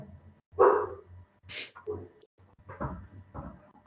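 A dog barks a few times in the background of an online lecture, short separate yips spread across a few seconds, fairly faint and well off the microphone, with quiet gaps between them.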